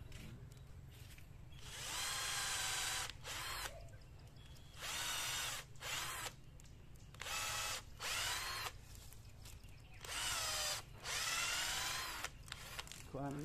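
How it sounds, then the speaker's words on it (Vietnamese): A power drill whirs in repeated bursts, starting and stopping several times with quiet pauses between, close and fairly loud, boring into a red sandalwood tree trunk. "Khoan chậm nữa cho nó lại vào."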